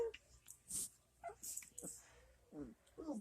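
Dogs play roughly, giving close, soft whimpers, yips and breathy snuffles in uneven bursts, with a person talking quietly at times.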